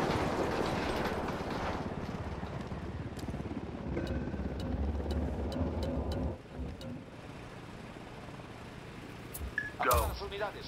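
A helicopter approaches in the video game Ghost Recon Wildlands, a faint, steady rotor drone that fades partway through, with brief clicks and a short burst near the end.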